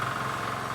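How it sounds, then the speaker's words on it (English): Diesel engine running a soil brick-making machine for compressed earth bricks, a steady close idling chug with a rough, vibrating rumble and no pauses. "And this one is powered by the diesel engine."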